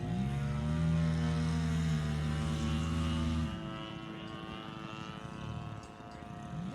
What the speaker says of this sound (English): here's Chuck Hamilton doing a victory roll with his Wildcat